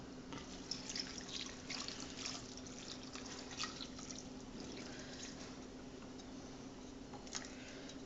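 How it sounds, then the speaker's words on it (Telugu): Water is poured into a cooking pot of toor dal and tomato curry, making a faint, steady trickle and dribble with light drips. Low in level, with no voices. "వాటర్ పోసేసుకోవాలన్నమాట."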